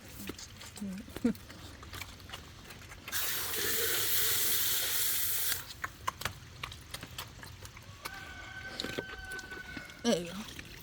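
Tap water runs for a few seconds to fill a pigs' water bowl during farm chores on a rainy day, a loud steady gush between scattered clatter, footsteps and a voice.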